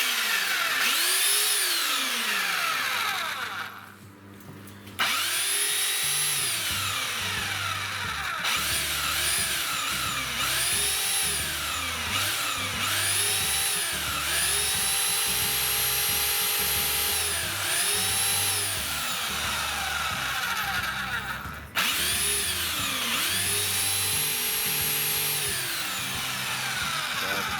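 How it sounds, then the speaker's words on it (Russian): A power drill with a bit runs steadily during work on a DIY fireplace stove with a bread oven, its motor whining loudly and continuously with slight pitch rises and falls, briefly dipping in the middle. "Сверло что-то не идет маленько."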